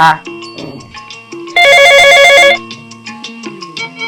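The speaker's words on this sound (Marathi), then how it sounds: "फोन आला" A telephone ringtone plays loudly for about a second as a bright, steady burst. Scattered voices and other sounds come before and after it.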